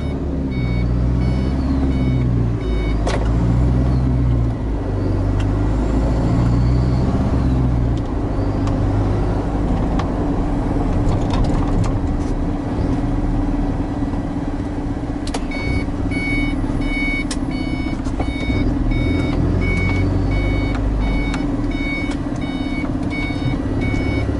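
A lorry drives with a loud, steady engine rumble heard from inside the cab, with a repeating beep partway through and no talking.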